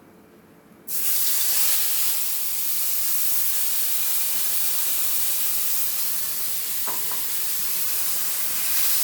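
A paste of ginger, garlic, onion and tomato hits a hot oiled pan with a sudden loud burst of hissing sizzle that then holds steady and close, with a faint clink partway through.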